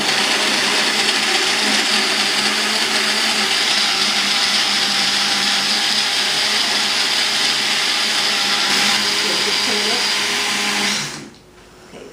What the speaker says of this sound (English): We're going to bring the blender over